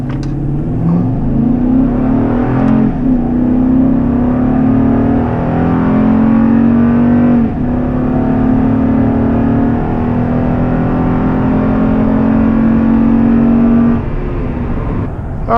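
A car accelerates hard through a 0 to 60 test pass on heavier wheels and tires, engine droning loud and steady with rising pitch and brief gear-change dips, close inside the cabin with no talk.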